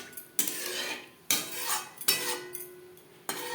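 Pomfret fish curry stirred in a pan, a metal spoon scraping and knocking against the pan in four separate strokes, with quiet gaps between them and no talk.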